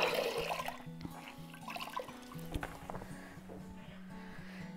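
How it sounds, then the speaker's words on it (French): Lukewarm water running over a painted piece of furniture as it is rinsed, a steady splashing flow with low hum beneath it and brief louder spurts, close by. "Et là, on vient rincer le meuble."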